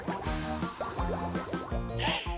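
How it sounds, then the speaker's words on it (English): Someone blows through a tube into a container of soapy, pigment-tinted water, making a rapid run of bubbling, gurgling pops in repeated bursts. The bubbling is close and fairly loud, with brief pauses between the bursts. "We blow the bubbles."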